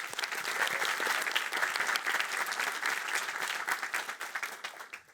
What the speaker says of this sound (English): I think this deserves a huge applause